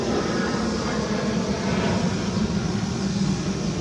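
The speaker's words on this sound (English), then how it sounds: "I'll wait till the plane goes over" An airplane passing overhead outdoors, a broad low rumbling roar that holds steady and fairly loud across the whole stretch, with no talking over it.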